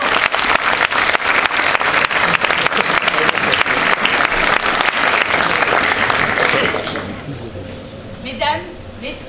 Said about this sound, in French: Veuillez applaudir Madame Pauline Fossa